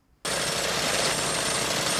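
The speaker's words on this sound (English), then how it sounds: "Bro, just move it. Move the lawnmower." A loud, steady engine roar starts abruptly after a brief quiet moment and runs on continuously, harsh and broadband, like a small motor close by.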